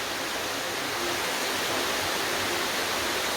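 Cedar Creek Falls in Mapleton National Park pours in a steady, dense roar of falling water, close and unbroken, with no voices over it.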